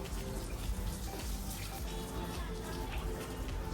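Water splashing and running steadily while a small balcony fish pond is cleaned, a continuous wet wash close by with no clear break.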